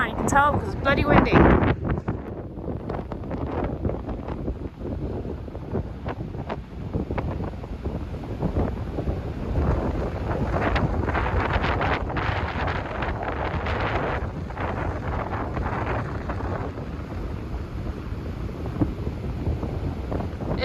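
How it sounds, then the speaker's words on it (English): Strong seaside wind in a Danish coastal town buffets the microphone in a constant roar, with a person talking over it throughout. "You can tell because it's bloody windy."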